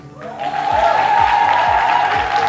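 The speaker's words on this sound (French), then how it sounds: "On va l'applaudir très très fort." Applause after a doctoral thesis defense, clapping that swells and holds steady, with a sustained tone and a low rhythmic thumping underneath.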